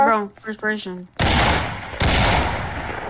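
Someone speaks briefly, then two loud, sharp gunshot blasts ring out a moment apart, each trailing into a harsh, noisy decay.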